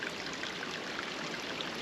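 Running water trickling and splashing down a steep trail of moss-covered rocks on a mountain ravine hike, a soft, continuous babble that stays fairly faint and even throughout.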